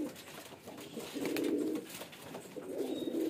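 A medium-sized fancy male pigeon gives deep, burbling coos at close range. Two drawn-out phrases are separated by a short quiet gap, and no one speaks.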